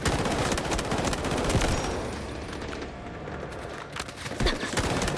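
Rapid automatic SG552 rifle fire in the shooter game Delta Force, dense loud bursts of close gunshots with a brief lull before firing resumes.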